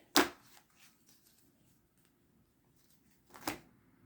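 Two quick riffles of a tarot card deck being shuffled, about three seconds apart, with faint handling sounds in between in a quiet room.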